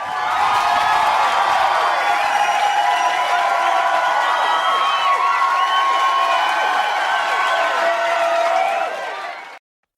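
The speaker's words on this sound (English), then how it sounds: "Insert cheering sounds" A large crowd cheering and applauding loudly and continuously, with whoops and clapping forming a dense, steady roar that cuts off abruptly at the end.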